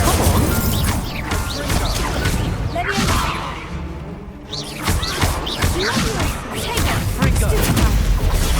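A spell burst in Hogwarts Legacy, Incendio, cast as a fire attack amid a busy duel: loud smashing crashes and whooshing impacts come in dense clusters, with a brief lull midway before another flurry of hits.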